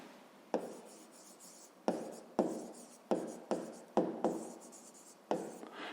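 Pen or pencil scratching on paper while an answer is written out by hand in a fifth-grade maths exercise, in a quiet room; a series of short, close strokes arriving in irregular bursts with brief pauses between.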